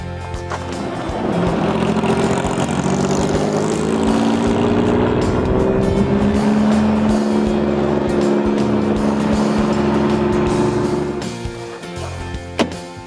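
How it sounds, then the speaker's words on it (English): A Jeep carrying passengers on a ride in Sigurd, its engine drone holding steady and loud for most of the stretch, rising and shifting in pitch, then easing off near the end. "Jody, what would it take to get a ride in this Jeep?"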